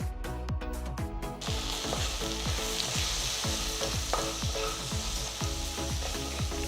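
Capsicum fried in a pan gives a steady, strong sizzle, with regular scraping stirs repeating at an even rhythm over it and no voices.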